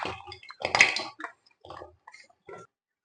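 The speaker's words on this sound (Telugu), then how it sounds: "కొంచెం వాటర్ వేసుకోవాలి." Water poured in small splashes over crushed jaggery, half a kilo, in a pan for peanut laddu syrup, coming as several short wet bursts with quiet gaps between them, close and fairly clear.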